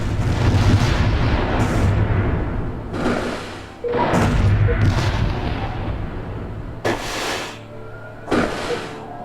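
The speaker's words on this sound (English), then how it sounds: "they'll stop bombing my planet over here" Planetary bombardment in the space strategy game Distant Worlds: Shadows, heavy booming blasts like artillery in repeated bursts of several seconds, loud and close, with short quieter gaps between them.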